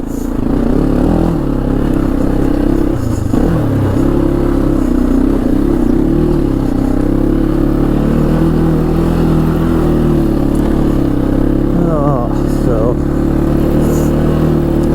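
A 2006 Bombardier DS650X four-wheeler ATV engine runs loud and steady during a test drive, with rising and falling revs and some clatter, a voice talking over it.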